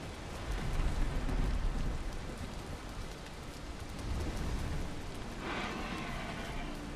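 Rain falls steadily in the video game Valheim, a constant hiss with a low rumble beneath, swelling briefly at moments and holding a moderate, even level throughout.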